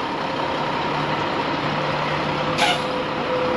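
A truck idles loudly during straight practice maneuvers, its engine droning steadily until a brief sharp air-brake hiss cuts in near the end.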